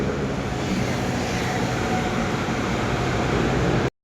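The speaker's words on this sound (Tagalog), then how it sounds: "Tapos ganito yung tunog sa ilalim ng bridge." Steady, dense traffic rumble beneath a bridge, a continuous broadband roar with low-end weight holding level throughout before cutting off abruptly near the end, no voices.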